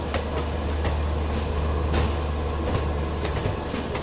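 A passing train rolls along the tracks near Ghaziabad junction, a steady low rumble with repeated clickety-clack wheel beats, close and continuous throughout.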